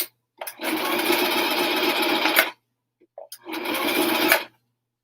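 Sewing machine running in two steady bursts as it stitches a seam on a helmet cover, a long run of about two seconds, a brief pause, then a shorter run, loud and close with no talking.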